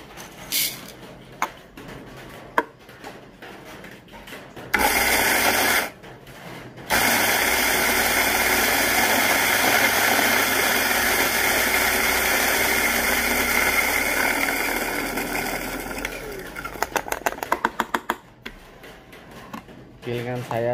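A coffee grinder runs on Kilimanjaro Finca beans for moka pot brewing, a loud steady whirring drone with a brief pause early on, winding down into rattling ticks near the end, with a voice speaking around it.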